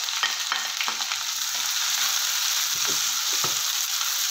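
Chopped onion and green chilies fry in hot oil in a pan with a dense, constant sizzle. A spatula stirs through it now and then with faint scrapes, up close and without speech.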